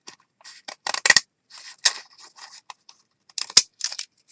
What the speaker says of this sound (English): I'm just going to use some decorative edge scissors and cut across.